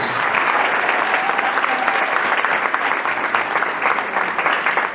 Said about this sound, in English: one more round of applause for all the student leaders